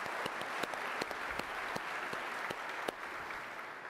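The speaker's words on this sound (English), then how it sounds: "give them a round of applause" Conference audience applauding steadily for the whole stretch, a dense wash of clapping with a few sharper individual claps standing out, moderately near and even in loudness.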